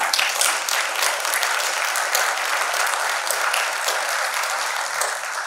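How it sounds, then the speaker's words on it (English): Steady applause from the audience at a candidates forum at the Crossridge Conference and Event Center, a dense continuous wash of many hands clapping at full strength for about five seconds, with no talk over it. "Can we get a big applause?"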